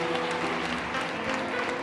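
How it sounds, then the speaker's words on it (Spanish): Audience applause at a fair event in Seville, a brief, dense, steady patter of many hands clapping at moderate distance. "Un aplauso para esta persona, por Dios."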